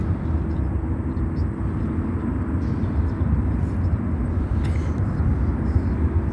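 A jet on runway 9 Center at Chicago O'Hare, American Airlines Flight 161 from Athens, Greece, gives a steady, broad roar that holds at an even level throughout, with no talk.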